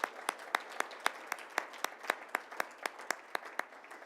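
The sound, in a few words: applause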